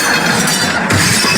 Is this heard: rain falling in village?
no